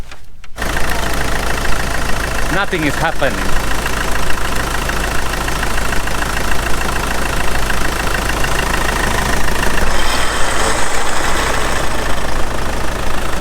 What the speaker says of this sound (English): First I start up the truck.